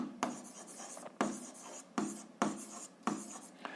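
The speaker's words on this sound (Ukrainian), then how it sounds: "Записуємо, ну давайте я жовтим буду записувати формулу." A physics formula for the Archimedes force is written out for a seventh-grade exercise, with short scratchy strokes in quick bursts separated by brief pauses, close and fairly quiet.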